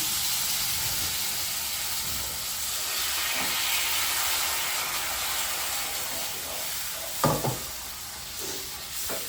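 Water poured into a hot cooking pot gives a broad, steady hiss close by that runs throughout, with a few faint utensil clinks near the end.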